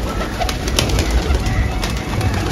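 A young pigeon, just back from a short flight, is heard close up with soft cooing and breathy bird sounds against a steady background hiss.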